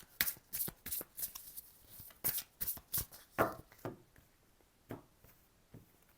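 Tarot cards shuffled by hand during a reading, a run of quick, crisp riffling slaps and flutters in bursts, close and fairly quiet, with no talking.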